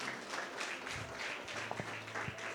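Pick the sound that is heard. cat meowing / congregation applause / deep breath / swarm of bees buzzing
congregation applause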